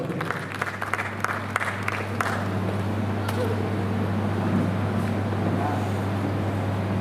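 An audience at a poetry gathering bursts into dense, sustained clapping that welcomes the poet to the stage, steady and loud throughout over a low constant hum from the hall's sound system.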